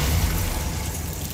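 A Confringo fire spell explodes in the Hogwarts Legacy video game, a dense fiery burst with a low rumbling boom that holds steady and loud for just over a second.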